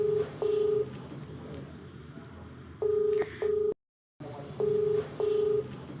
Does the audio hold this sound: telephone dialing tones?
yes